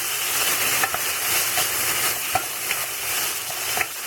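Celery and other vegetables stirred in a cooking pot, with a steady sizzle and irregular scraping and clacking of the utensil, close and fairly loud.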